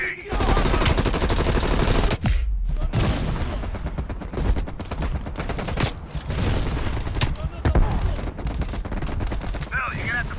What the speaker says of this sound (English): Hell, you're gonna have to flank that MG